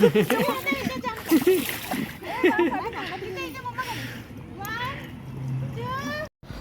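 Children splash water while swimming in a resort pool, the splashes mixed with lively kids' voices and calls throughout.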